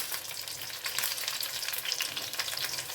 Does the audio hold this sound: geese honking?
no